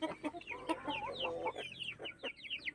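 Barred Plymouth Rock and Rhode Island Red cross chickens cluck and chirp in a quick run of short calls, faint and fairly close, with no talking.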